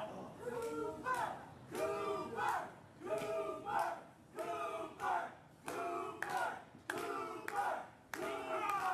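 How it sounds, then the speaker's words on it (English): Wrestling crowd cheering in rhythmic, chant-like surges, repeating bursts of massed voices with some clapping, heard faint and distant. "Crowd getting behind him."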